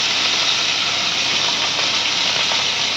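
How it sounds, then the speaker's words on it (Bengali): Puti fish frying in hot oil, a loud, steady, broadband hiss and crackle close up, sustained without pause and with no voices. "এই যে দেখুন পুঁটি মাছগুলোকে ভালো করে লাল লাল করে ফ্রাই করে নিচ্ছি।"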